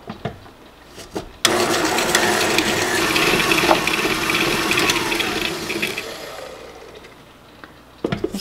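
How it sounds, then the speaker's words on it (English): An electric mixer creams shortening and sugar in a bowl, a steady whirring motor with scraping, rattling texture running several seconds after a few clicks, then switching off with more handling taps. "I just go ahead and get my mixer out just to make it faster."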